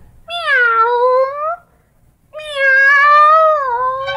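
A person imitates a cat, giving two long, drawn-out meows separated by a short pause, loud and close.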